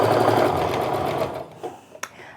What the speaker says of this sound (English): So I just line up my top and my bottom edges and sew all the way down.